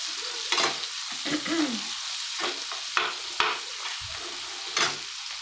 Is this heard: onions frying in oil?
yes